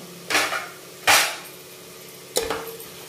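Turmeric and red chilli powder being mixed into a pot, heard as three distinct, close scraping knocks of a utensil against the pot, spaced irregularly.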